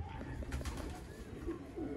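Pigeons of a rare Sialkoti breed coo softly at a loft, a low murmuring under steady background noise with no voices.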